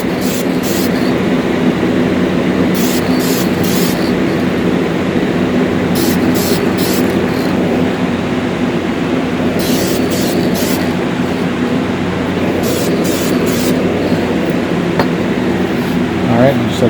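A spray paint can lays a light coat of white paint onto a 1:64 diecast Camaro ZL1. Several short, sharp hissing bursts come in clusters over a loud, constant droning background.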